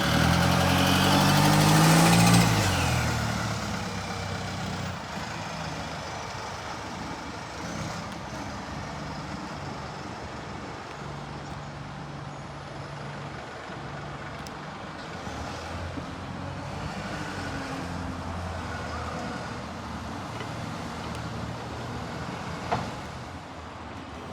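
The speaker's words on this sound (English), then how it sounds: "Here is the Stagecoach Southwest Scania Enviro 400 arriving back in to take passengers back" A Stagecoach South West Scania Enviro 400 double-decker bus pulls in, a loud engine surge at the start settling into a long, low idling rumble with faint mechanical noises around it.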